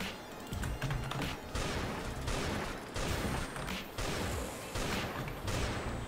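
Repeated heavy Python revolver shots boom in quick bursts, separated by short gaps, loud and sharp amid a noisy, chaotic battle in the game Last Day on Earth.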